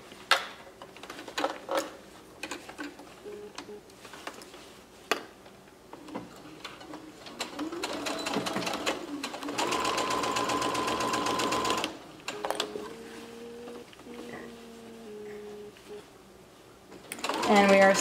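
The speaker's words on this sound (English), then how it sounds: "And we are stitching around the top of this stocking." Sewing machine stitching around the top of a fabric Christmas stocking, a close rhythmic clatter in bursts with clicks and handling noises between runs, mostly alone.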